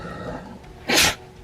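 A single short, sharp sneeze bursts out close by against a quiet indoor background, lasting well under half a second.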